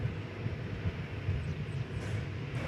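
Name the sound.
Airbus A321neo airliner at DFW Airport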